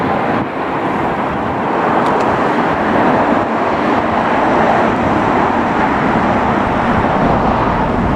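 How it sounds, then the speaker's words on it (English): Cars speed along the Portaferry Road past a car park beside Strangford Lough at Greyabbey, County Down, making a loud, continuous traffic roar mixed with wind and no talking. "there's an awful lot of cars flying up and down"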